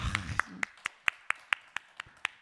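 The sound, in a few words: applause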